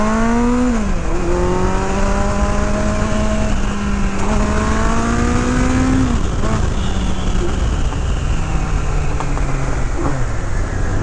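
A 1982 Kawasaki GPZ1100 motorcycle engine runs loud and close, rising through the gears with pitch climbing and dropping at each shift, then settling to a lower drone near the end.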